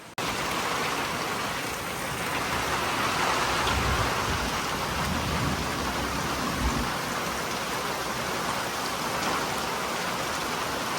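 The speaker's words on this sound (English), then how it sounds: "these storms come in hot and quick." Heavy rain pours steadily and close, with low rumbles of thunder rolling underneath throughout.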